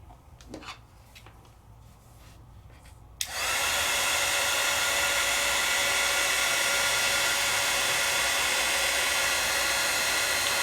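A heat tool for embossing switches on abruptly and blows hot air with a steady, loud, hissing whir, after a few faint handling clicks.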